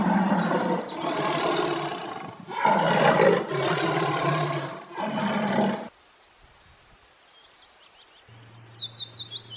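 A tiger lets out four long, loud roars in succession, each a sustained growling blast with short gaps between, followed by quieter bird chirps and a low tone.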